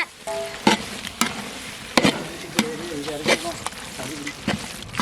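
Grated coconut is stirred into eggplant pachadi in a pan, a series of sharp spoon scrapes and clinks at irregular intervals, with someone talking between the strokes.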